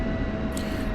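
An F-16 jet in DCS World taxiing toward parking from taxiway Delta, a continuous loud engine whine and rumble with a steady tone throughout, no talking.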